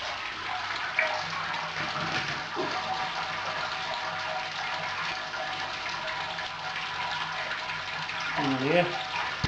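Sparge water for a corn ale brew being poured into a Brewzilla all-in-one brewing system, a steady broadband gush and splash running throughout, with a voice speaking briefly over it.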